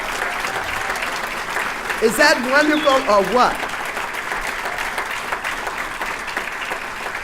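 A big round of audience applause at a 2018 State of the Region event, continuous clapping that runs throughout while a voice speaks briefly over it midway.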